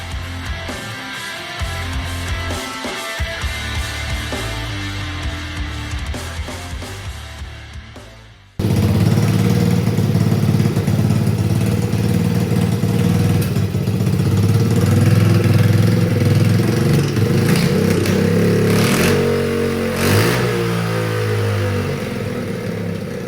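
A 1975 Honda XR75 dirt bike, restored from a scrapyard, is kicked and turns over, then suddenly fires and runs loud and close, a raspy single-cylinder idle with blips of throttle revving.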